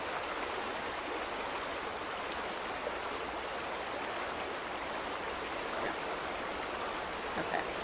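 Steady flowing water rushes continuously at moderate volume in The Vanishing of Ethan Carter video game, a broad, even wash with no voices.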